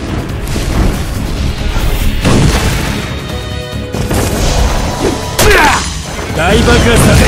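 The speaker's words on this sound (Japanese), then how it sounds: "大爆発だぜ" A big explosion in the Naruto Online game, heavy booms and crashing impacts layered with battle effects, loud and dense throughout, with a sharp burst near the end.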